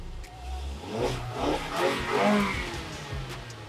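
A 240 hp car engine revving at full throttle, rising and falling in several surging waves up to high rpm, loud and close without speech.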